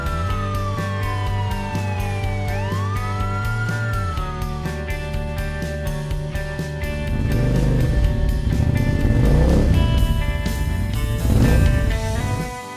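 A siren glides up and down, then a motorcycle engine rumbles and revs loudly in repeated bursts.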